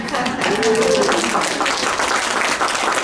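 An audience at a nonprofit sector event claps together, a dense, steady patter of hands filling the room, with a voice briefly heard through the applause.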